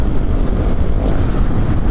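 Strong wind buffeting the microphone of a rider on a motorcycle heading home from Cubao to Balintawak, a loud continuous low roar and rumble without a break, close and dominant.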